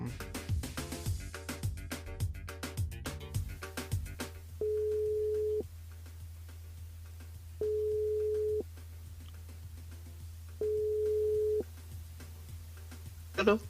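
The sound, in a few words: telephone line tone while calling a radio listener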